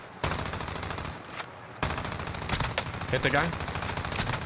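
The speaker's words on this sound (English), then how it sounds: "They're shooting with ARs as well." Rapid bursts of assault rifle fire in a Call of Duty firefight, loud and continuous, under excited talk from players.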